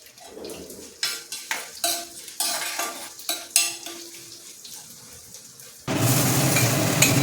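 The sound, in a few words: roasting coriander seeds in coconut oil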